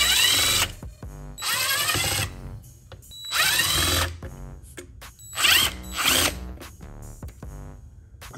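A power drill backs screws out of a billet steering wheel, loud close whirring bursts rising and falling in pitch, four or five separate runs with short pauses and small clicks between them.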